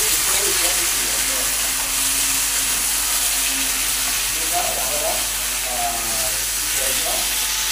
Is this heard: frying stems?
yes